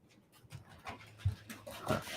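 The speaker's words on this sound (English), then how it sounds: "I hear the puppies milling around" Puppies move around and pant close by, giving soft, uneven breaths and small shuffling sounds, quiet and with no talking.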